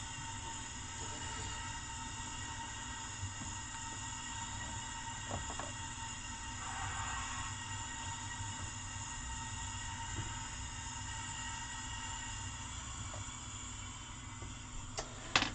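A model railway locomotive hauls a rake of coaches around a layout, giving a steady low rumble and whirr that runs throughout, with a few faint clicks and a small clatter near the end.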